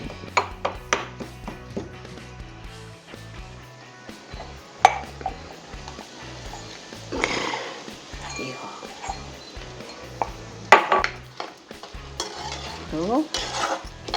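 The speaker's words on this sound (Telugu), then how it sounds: "ఇప్పుడు దంచిన వెల్లుల్లి ఉంది కదా ఇప్పుడు దీంట్లో వేయాలి" Crushed garlic is added to ivy gourd frying in a pan and stirred, giving a steady sizzle with repeated scraping and clinking of a utensil against the pan while someone talks.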